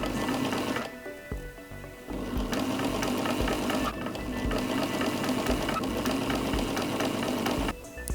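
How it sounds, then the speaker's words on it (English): Sewing machine stitching French seams on the side back pieces of a garment: a steady, close mechanical whir of rapid stitching that runs in long bursts, with brief pauses between them, and no voices. "Now I've got to attach the side back pieces with French seams."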